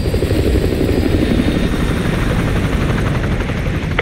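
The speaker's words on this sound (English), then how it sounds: "Enemy helo patrolling the perimeter." An enemy helicopter in Modern Warfare 2 Remastered patrols an oil drilling rig, making a steady, loud rotor thrum and engine drone that holds throughout without pause.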